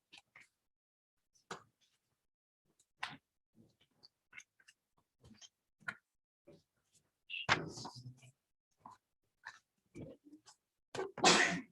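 A sudden, sharp sneeze bursts out in a quiet meeting room, set among sparse soft knocks, rustles and faint murmured speech, with another loud burst near the end.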